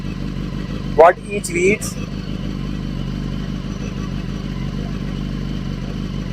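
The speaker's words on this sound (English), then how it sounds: "The motorcycle is very close to 2000 rpm idling." A BMW HP4 motorcycle idles near 2000 rpm, a steady low engine drone running throughout, with a short clatter and brief speech near the start.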